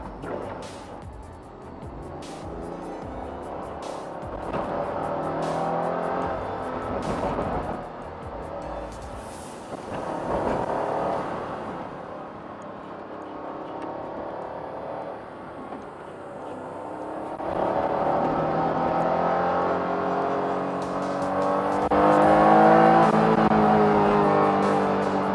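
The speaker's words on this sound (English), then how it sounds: "This car loves to rev. It's just keep revving and revving." A Honda NSX-R NA2 engine revs repeatedly from inside the car while driving, climbing through several long high-pitched pulls with rising harmonics, loud and close, with no talking.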